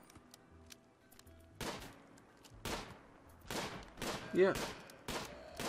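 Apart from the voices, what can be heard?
gunfire in the video game RimWorld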